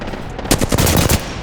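Rapid video game gunfire: a loud burst of close shots in a quick rhythm, roughly six or seven cracks in under a second, after a quieter stretch.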